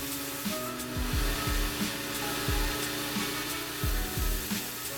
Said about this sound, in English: so now I'm going to go ahead and just grind off the glue